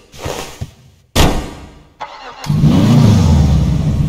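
A car engine in GTA 5 cranks, then bursts to life with a deep, throaty exhaust rumble that settles into a loud, steady idle up close.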